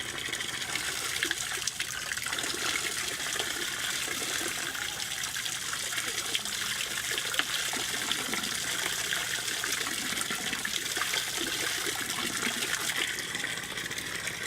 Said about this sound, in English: I'm taking a sample of the treated water that comes out from the facility.